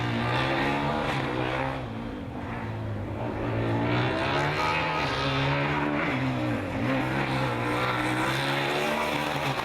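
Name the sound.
Formula Student race car driving past on endurance track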